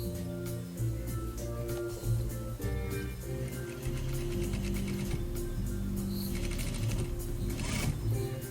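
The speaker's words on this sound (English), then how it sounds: "sew a seam." A sewing machine stitches a welted pillow seam, its motor whirring and its mechanism clattering in a fast, steady rhythm that briefly pauses and restarts, close and moderately loud.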